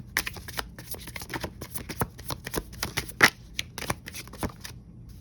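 Oracle cards from the Mystic Red Rose Oracle deck are shuffled by hand during a pick-a-card reading, giving a steady run of close, crisp riffling and flicking bursts with no talk.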